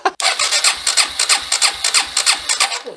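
A Kawasaki Super Sherpa 250 dual sport motorcycle engine cranks over on the starter, loud and close, with a steady rhythmic chugging of about a dozen compression pulses that never catches.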